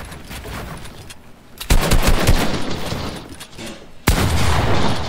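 Gunfire in a 1v1 video game box fight: rapid bursts of loud shots cracking in close succession, with two sharp blasts standing out above the dense, busy game noise.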